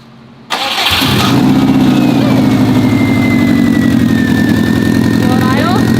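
A recovered stolen car's engine cranks briefly and catches, then settles into a loud, steady idle with a persistent low rumble and a faint whine above it. Voices are present.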